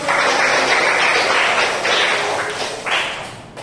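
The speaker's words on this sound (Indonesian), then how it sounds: "Oke, kita tepuk tangan bagi" A classroom group claps together in steady, energetic applause during a Catholic religious education lesson, loud and continuous before tapering slightly near the end.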